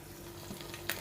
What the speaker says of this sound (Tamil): பட்டர் பட்டர் போட்டிருக்கோம் ஒரு எக்கு உடச்சி ஊற்றிக்கலாம்